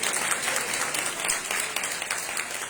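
Audience at a speaking event breaking into sustained applause, a dense even wash of many hands clapping that holds steady and fills the room throughout.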